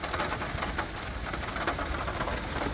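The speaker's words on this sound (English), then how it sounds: "the sound of rain on the top of the van" Rain falls steadily on the roof of a van, a dense, even patter with soft irregular drops, close and continuous with no talking.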